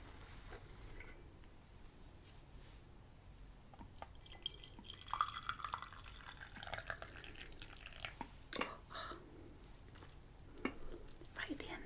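Tea pouring from a sloppy teapot into a cup, with soft trickling and dripping near the mic, faint whispering and small clinks in a quiet room.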